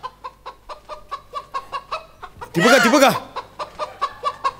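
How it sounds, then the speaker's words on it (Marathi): Jungle fowl clucking heard live on a comedy stage show: a steady run of short, evenly spaced clucks, broken midway by a loud, warbling outburst, with a brief spoken line over the calls. "कोकिळीच्या आवाजावरती रान कोंबडी आली आहे."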